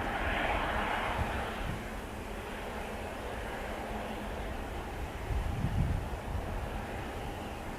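Aircraft taking off at Manchester Airport in sunshine, a broad distant jet roar with wind buffeting the microphone, steady with a brief low swell near the end.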